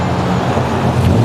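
Loud car traffic rumbling past on a Toronto street where the bike lanes end, a steady low roar of engines without any clear single pass-by.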